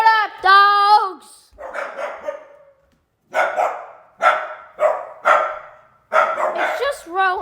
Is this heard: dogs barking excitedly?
yes